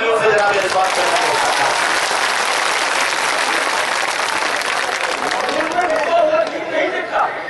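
Strong audience applause at a mushaira welcoming a poet, a dense sustained burst of clapping from a large crowd with chatter and voices mixed in, easing slightly near the end.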